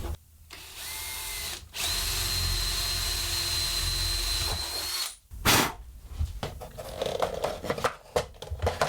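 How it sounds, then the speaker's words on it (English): A power drill bores a hole through a switch box during a workshop electrical upgrade: two long, loud, steady whining runs, a brief pause between them, then shorter bursts and clattering handling noises. "So I'm going to get a hole drilled, get the cable put through and then the switch can go on."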